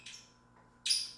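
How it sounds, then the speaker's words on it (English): Two short, high bird chirps, a quick one followed after a pause by a louder, brighter call, in an otherwise quiet workshop during a wrecked motorcycle rebuild. "Where's the bird at?"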